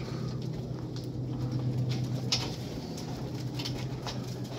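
Pigeons in a breeder loft in Jhelum murmur with low, soft cooing and occasional light fluttering and pattering, quiet and steady with no voices.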